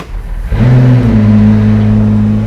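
A McLaren P1 engine cranks and fires after a short quiet stretch, then settles into a loud, steady droning rev that holds close and strong to the end.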